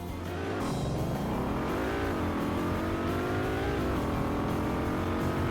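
A car accelerating hard from 0 to 100 km/h, engine note climbing through the gears in rising sweeps with brief dips at each shift, loud and continuous throughout.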